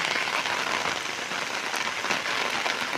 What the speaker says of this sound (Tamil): இப்போ நல்ல மழை பெய்யுது